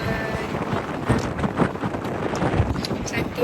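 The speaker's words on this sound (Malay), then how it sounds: "angin kuat gila" Strong coastal wind at Kuala Perlis buffets the microphone in loud, continuous rumbling gusts, with a voice talking underneath.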